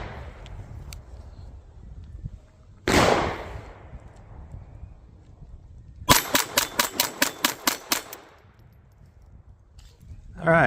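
A pistol fires a fast string of about eight sharp, loud shots at a steel stop-sign-shaped target, with a single report a few seconds before the string.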